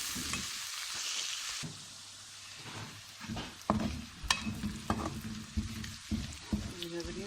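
Spice masala stirred and fried in a pan for a Pakistani-style mash dal, a soft sizzle with intermittent scraping clinks of a spoon against the pan, close and fairly quiet.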